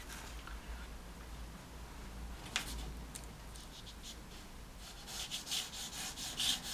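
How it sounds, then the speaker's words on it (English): Pastel stick dragged across paper to suggest a shingly foreground in a moody beach scene, giving a soft, close, continuous rubbing scratch that grows busier and slightly louder toward the end, with no talking. "I'm going to drag some pastel colour just to give a hint of a shingly foreground"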